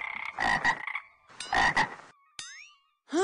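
Frogs croak loudly in a cartoon setting, several rapid raspy bursts in quick clusters, close and clear with short gaps, followed by a springy twang and another croak.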